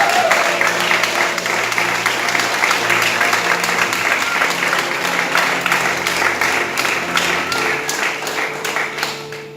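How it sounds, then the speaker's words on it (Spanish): Loud, sustained applause from a church congregation praising the Lord during a service, dense steady clapping lasting nearly ten seconds, with sustained musical tones underneath. "Le iba a dar un grito de júbilo, un aplauso al Señor."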